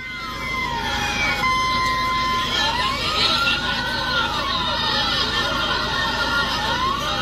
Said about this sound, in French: Ça, c'est l'arrivée des pompiers.